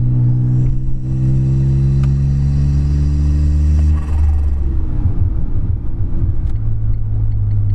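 Smart Roadster after a drill modification, driving with a loud droning engine hum and steady rumble, tones shifting as it changes speed midway, close inside the car with no talk.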